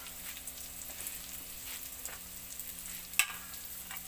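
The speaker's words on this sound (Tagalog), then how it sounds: "at ilalagay na ang ating carrots" Carrots drop into a hot frying pan for Filipino sweet and sour tilapia, giving a steady close sizzle and frying hiss with one sharp clink partway through and no talking.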